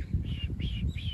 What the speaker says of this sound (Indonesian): Ih, burung.